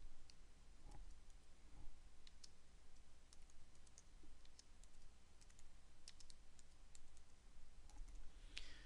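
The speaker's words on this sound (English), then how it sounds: "By typing in a tag." Faint keyboard typing while entering a tag into meeting-recording software, scattered quick clicks and taps over a low background hum, with no talk.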